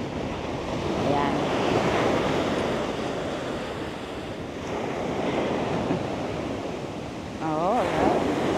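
Ocean waves wash onto a Florida beach in a steady surf roar mixed with wind noise on the microphone, with brief voices heard faintly.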